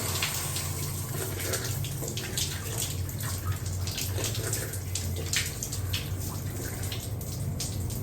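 A bathroom tap runs steadily, with water splashing and hissing continuously up close and no talking.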